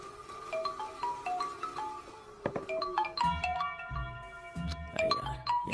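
A mobile phone plays a melodic ringtone for an incoming call, a repeating tuneful pattern of bright chimes over soft low beats, moderately quiet and heard alone.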